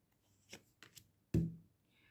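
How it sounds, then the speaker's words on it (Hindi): Tarot cards are shuffled in quiet surroundings: a few soft riffling flicks, then one sharper slap as the deck comes together, faint and close. "फाइनल शफल बाबा जी"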